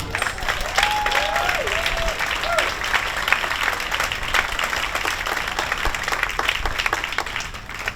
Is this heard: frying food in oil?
no